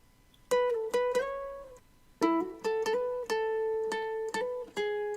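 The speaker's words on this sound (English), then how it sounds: "And then I layered that with the second guitar layer" Layered guitar chords from a beat, chopped into short plucked stabs and a few longer held notes, fairly quiet and close, with a faint low rumble beneath and no talking.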